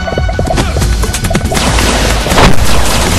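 Chaotic bursts of gunfire and crashing impacts from a Power Rangers Forever Red battle scene, loud and dense with overlapping booms and whacks and no speech.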